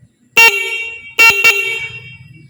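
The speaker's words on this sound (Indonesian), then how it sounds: "Untuk klakson" Car horn on a Ninja wiring loom under test sounds three short, loud honks, one alone and then a quick pair, with quiet gaps between them.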